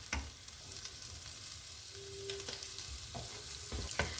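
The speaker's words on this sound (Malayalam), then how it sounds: "അപ്പം ഇനിയും തക്കാളിയും കൂടി ഇട്ടിട്ടൊന്ന് വഴറ്റിയെടുക്കാം." Tomatoes and onion masala sauté in a pan, with a soft continuous sizzle and occasional scraping stir strokes, faint and close with no talk.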